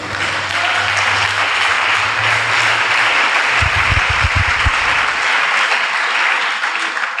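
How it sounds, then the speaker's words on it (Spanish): A church congregation claps in praise to the Lord, a loud, dense, sustained burst of applause with a low hum and a few low thumps underneath, fading out near the end. "Denles ofrenda de palmas al Señor"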